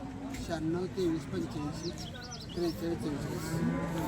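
A cow at a busy cattle market moos in repeated low, drawn-out calls close by, heard over the general crowd murmur, while people talk nearby.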